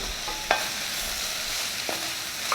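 Cauliflower and sweet potato soup stirred in a pot, with a low steady simmering hiss and a few brief scraping clicks of the spoon against the side.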